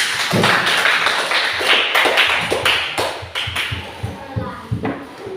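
Clapping from a classroom group at an Indonesian school lesson, a burst of uneven hand claps and taps mixed with chatter and voices throughout.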